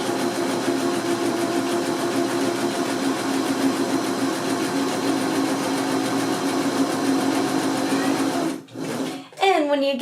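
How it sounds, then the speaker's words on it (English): A home sewing machine stitching forward along a fabric seam, a continuous loud whirring motor with rapid needle rhythm that stops abruptly near the end, followed by a brief mechanical rustle. "Then I'm going to release it and sew forward the full width of my seam."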